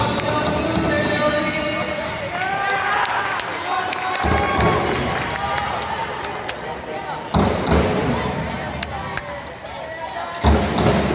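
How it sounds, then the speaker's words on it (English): A crowd cheers and shouts at a BEST Robotics 2021 competition semifinal, a dense, loud wash of voices with thumps and bangs mixed in and people calling out nearby. "they're cheering for you"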